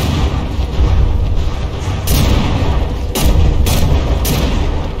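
Shells striking the MEGADOZER's turret in From the Depths, a continuous heavy rumble of battle with several sharp impacts and booms standing out, loud and close, no talk.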